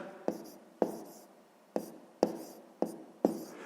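A hand writes out a sixth-grade maths solution with a pen or chalk, six separate sharp tapping strokes at uneven intervals, each followed by a short scratchy drag, close and clear with no talk.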